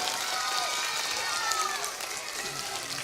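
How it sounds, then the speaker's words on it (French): A children's composting show audience applauds: a steady, fairly soft wash of clapping from a crowd, continuous for a few seconds, with cheering voices mixed in. "Mesdames, messieurs, on peut les applaudir!"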